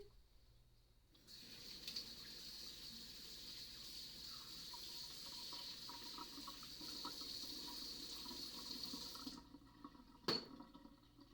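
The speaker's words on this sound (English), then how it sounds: "I'm going to wash my hands again" Tap water runs steadily at a sink for about eight seconds as hands are washed, a faint, even hiss that stops with a brief clink near the end.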